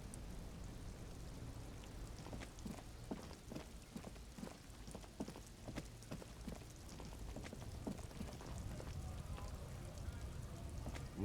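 Rain in the video game Disco Elysium patters steadily on surfaces with scattered distinct droplet taps over a low, quiet rumble, continuing evenly throughout.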